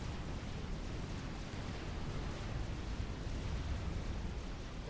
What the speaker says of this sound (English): the explosions is the factories for Papalo just going down to the Harbingers and Mantis out from the southern team